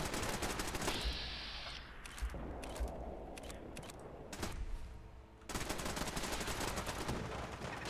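Fallout 4 battle in which settlement turrets and raiders trade rapid gunfire, dense overlapping shots and bursts running nearly throughout at steady loudness, with a brief lull near the end before the firing resumes.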